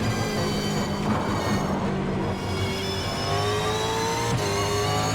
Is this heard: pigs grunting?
no